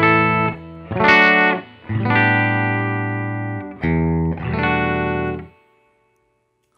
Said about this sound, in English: the little baby of them all, the TC Hall of Fame. So here it is, just amp reverb.